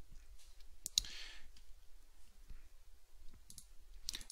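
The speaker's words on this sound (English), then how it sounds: "Click on this icon and let it load up." A computer mouse gives a few scattered, faint clicks in a quiet room while free medical-imaging software loads on a PC.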